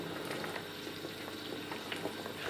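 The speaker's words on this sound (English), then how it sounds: "the veggies are bubbling away" Stock with chopped celery, carrot and vegetables simmering in a pot, giving a steady, close bubbling and light sizzling texture that runs throughout at low level with no voices.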